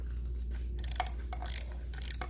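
A 10 mm bolt being loosened on a Honda Ruckus clone scooter gives a few short ratchet clicks in bursts, close and quiet, with no talking.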